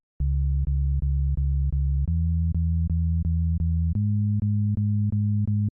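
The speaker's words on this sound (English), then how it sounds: "let's check out the sub bass" EDM sub bass synth playing alone, a loud pure low tone in even repeated pulses that steps up in pitch twice over a steady rhythm, each note starting with a small click.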